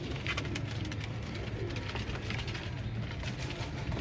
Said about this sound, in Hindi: ये नीली आंखों के कबूतर हैं सबके सब माशाल्लाह से